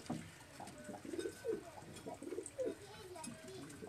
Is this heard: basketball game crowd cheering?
no